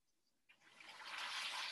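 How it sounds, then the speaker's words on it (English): Persian rice in a pot crackles and sizzles as water and oil are poured over it, starting from near silence and quickly building into a steady, bright hiss of popping. "it's like the snap, crackle, pop of Persian rice"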